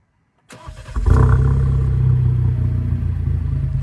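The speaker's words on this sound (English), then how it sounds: "the aftermarket muffler delete kit I've put on this car. So real quick, just take a listen," Alfa Romeo Giulia four-cylinder with an aftermarket muffler delete, its engine firing up after a brief silence and settling into a loud, deep, steady idle rumble close to the exhaust.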